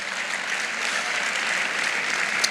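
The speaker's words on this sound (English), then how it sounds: "A round of applause." An audience at a women's business conference claps steadily, a dense, even wash of applause with no pauses.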